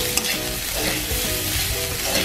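Onion flower stalks fry and get stirred in a pan, a steady dense sizzle with scraping stir strokes running throughout, close and continuous with no voices.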